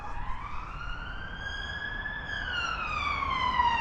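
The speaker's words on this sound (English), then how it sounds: "Ambulance here. Oh, police." An emergency vehicle siren wails nearby, rising and falling in a smooth sweep that grows slightly louder, over steady background traffic noise, with no talking.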